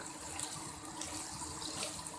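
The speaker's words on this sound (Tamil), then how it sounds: "கொஞ்சமாக தண்ணி ஊற்றி காய்கள்லாம் முழுகிற அளவுக்கு தண்ணி ஊற்றிக்கலாம்" Water is poured over chopped garden vegetables in a pot for sambar, making a soft, continuous splashing and trickling that stays fairly quiet throughout.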